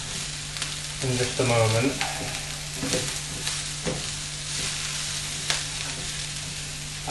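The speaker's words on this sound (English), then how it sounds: "stir this around a little bit on a low heat" Stir fry with sausages sizzling steadily in a pan over low heat, with scraping stirs and occasional utensil clicks against the pan; someone speaks briefly over the frying.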